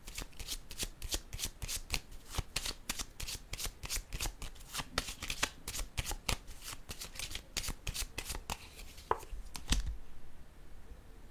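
Playing cards are placed and shuffled close up, with rapid rhythmic flicking and riffling strokes that run steadily before ending in a soft tap and quiet.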